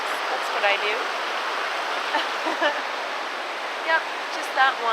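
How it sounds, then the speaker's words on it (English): Small waterfall in a snowy winter forest, a steady broadband rush of falling water running throughout, close and fairly loud, with a person talking over it in short phrases. "finding beautiful little waterfalls"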